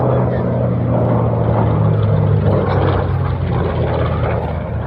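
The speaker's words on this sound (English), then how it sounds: "Just got a big beefy engine." A loud, steady aircraft engine drone at an airshow, with a deep rumbling hum, continuous and close, with no break throughout.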